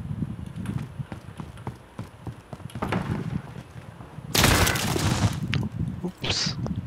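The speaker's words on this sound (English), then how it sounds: "Shooting through wall." Gunfire shooting through a wall in a Call of Duty Search and Destroy match, with muffled footsteps and thuds followed by a sudden loud burst of shots and a sharp crack near the end.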